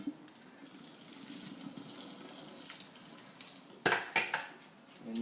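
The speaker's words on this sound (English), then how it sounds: "dump it into a strainer, let all that water strain out of there." Water trickles and splashes steadily at low volume, then a few louder clattering sloshes come near the end as boiled chaya and its water pour through a strainer into a sink.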